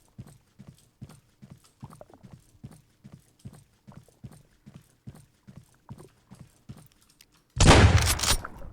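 A short, loud burst of gunfire sounds in a retro first-person shooter game. It comes abruptly after a long stretch of quiet, rhythmic clopping steps.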